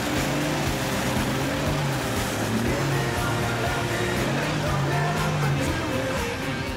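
Off-road vehicles at a Jeep club trail event in Irati, Paraná, accelerating hard through a river crossing, a continuous loud engine roar with wavering pitch and constant rushing noise throughout.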